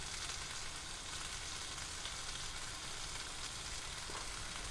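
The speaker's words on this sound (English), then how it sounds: "And the sizzle's good." Pork fries in a pan in an RV kitchen, giving a continuous, even hiss of sizzling fat that stays steady throughout, fairly quiet and with no voices.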